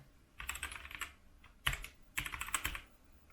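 A few separate key presses on a Gamepower Warlock compact keyboard, close-up clicks that come in short bursts with gaps between them.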